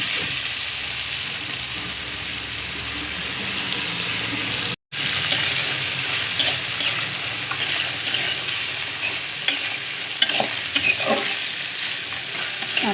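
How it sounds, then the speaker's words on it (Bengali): Chopped beetroot and carrot frying in hot oil with green chillies and whole cumin, a steady loud sizzle with scraping stirs, briefly cut off once, then continuing with bursts of spatula clatter. "কাঁচা লঙ্কা জিরের সঙ্গে আর তেলের সঙ্গে এটাকে ভালো করে ভাজবো।"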